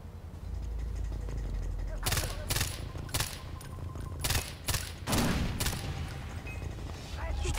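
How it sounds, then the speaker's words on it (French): Gunfire in the video game Far Cry 4: a series of sharp, loud shots fired in quick irregular bursts over a low background rumble, with a voice speaking between them. "J'utilise vraiment toutes mes munitions,"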